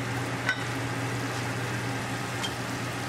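Ground bison keema with mushrooms stirred in a pan over medium heat, a steady low sizzle with a couple of faint scraping clicks near the start and end, no talking.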